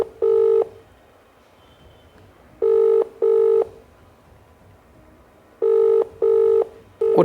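Repeating outgoing ringback tone on a phone call, paired double bursts separated by long pauses, clear and close with no voices.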